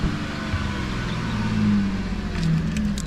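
An Audi Q7 4M with a stage 2 supercharger, ORP intake and muffler-deleted exhaust drives along, a steady engine drone with a faint high whine running over it, close and fairly loud.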